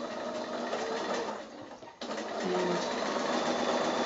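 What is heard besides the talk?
sewing machine stitching a quilt block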